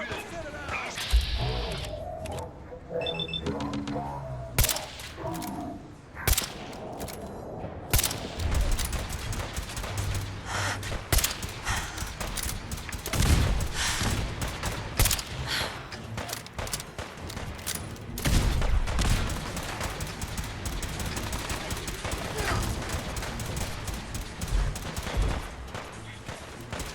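Cannons and gunfire boom and crack in Fallout 4 combat, heavy repeated blasts and bursts of shots filling the scene continuously, loud and close, with spoken voices mixed in.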